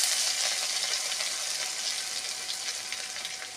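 Ginger paste sizzles steadily in hot oil with tempered spices while a vegetable and soybean dal is being made, a continuous close frying hiss that stays fairly even and eases off slightly by the end.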